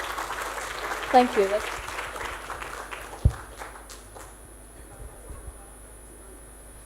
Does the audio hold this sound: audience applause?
yes